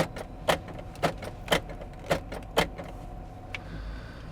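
A series of sharp mechanical clunks from the power door locks of a 1986 Pontiac Fiero, six actuations in a steady rhythm about half a second apart, then a softer click near the end.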